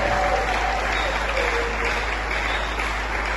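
A church congregation applauds during a Sunday Mass homily, a dense, steady clapping that fills the space loudly and evenly throughout.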